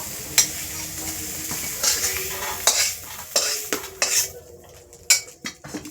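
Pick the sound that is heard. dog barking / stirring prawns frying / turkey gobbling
stirring prawns frying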